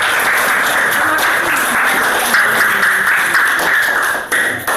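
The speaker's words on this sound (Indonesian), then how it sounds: "tepuk tangan untuk teman-teman" A classroom of students clapping for their classmates during a biology lesson, continuous bright patter of many hands at close range, sustained throughout with no talking.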